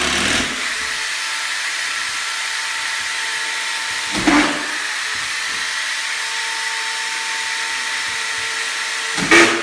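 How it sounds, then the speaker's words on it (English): Power screw gun driving screws into a bonus room subfloor, a loud steady high whine running for several seconds, broken by two brief bursts as screws seat, close by. "We got Jim on the screw gun."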